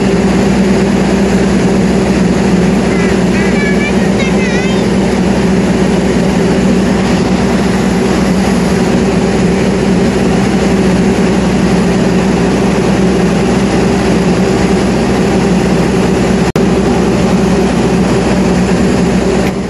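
Diesel locomotive CC206 13 05 of the Cirebon depot idles at Cirebon Kejaksan station during coupling to the Argo Cirebon train, a loud, continuous low engine drone that holds steady throughout with no talking.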